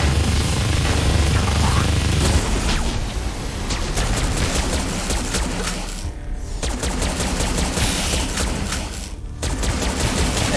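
Rapid, continuous weapon fire from the twin-stick shooter Tesla Force, dense machine-gun-style bursts loud and close, briefly pausing twice, with no voices.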